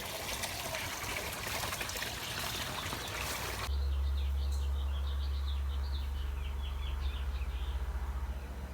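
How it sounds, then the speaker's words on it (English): Green parrots in a tree outside give a string of faint, high chirping calls after a trickle of water, over a steady low hum from an aquaponics system. "Those are green parrots in my tree outside."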